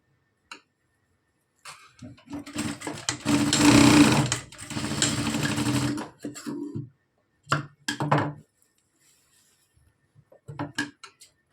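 A sewing machine stitches a joint in a blouse border, running in loud bursts of rapid mechanical whirring, with a long central run and shorter starts, separated by quiet pauses and a few clicks.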